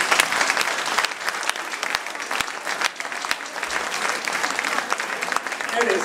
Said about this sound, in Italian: vi chiedo un bel applauso per questi ragazzi.